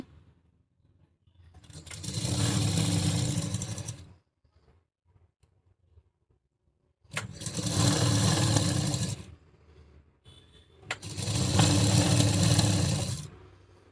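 A sewing machine stitches a double seam on an A-line gown in three steady whirring bursts of about two seconds each, separated by pauses, close and clear with no talk.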